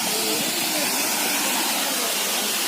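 Waterfall in Munnar, Kerala, running high during rainfall: a loud, steady, unbroken roar of rushing water filling the whole clip.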